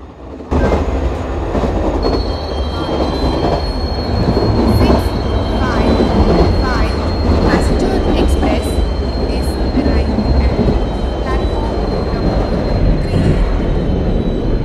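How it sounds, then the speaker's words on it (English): An express train in the Indian Train Simulator game rolls into a station platform, a steady, loud rumble of wheels and carriages with rhythmic clatter and faint squeal running throughout, with no one speaking. "Express is arriving at platform number 4."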